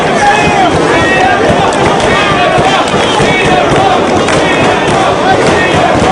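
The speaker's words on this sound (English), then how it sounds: "Crowd showing their support for Punk" Wrestling arena crowd cheering in support of a wrestler, a loud dense roar of voices that holds steady without a break throughout.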